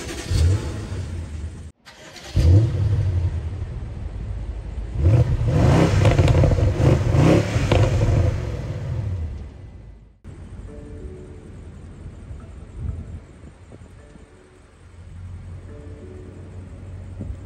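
A BMW M550i engine revs loudly and roars through several bursts near the start, then settles into a quieter, steady running hum with lighter throttle swells.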